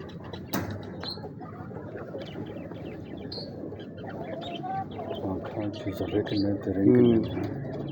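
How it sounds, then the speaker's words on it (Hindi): Imam Din pigeons, a male among them, coo softly and intermittently nearby while someone talks over them. "बहुत ये खालस मामदीन कबूतर है"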